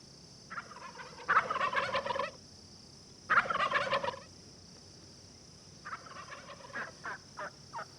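A wild turkey gobbles in two loud, rattling bursts, then a series of shorter clucking calls, set against a steady high hum of insects or background noise in a hardwood forest setting.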